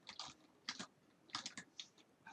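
Someone types on a computer keyboard, a few quick clusters of crisp key clicks with short pauses between them, close and fairly quiet, spelling out a single word.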